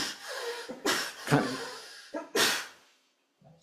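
A sharp human sneeze in a fellowship meeting room, several abrupt bursts spread across a few seconds, fairly close and loud, with some speech between them.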